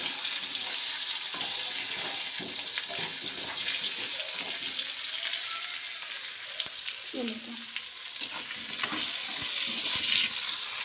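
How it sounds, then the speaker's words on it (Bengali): Steady, loud sizzling of onion and potato frying in a pan, with occasional stirring scrapes, close up and continuous. "পেঁয়াজটা লাল লাল করে ভেজে নেব।"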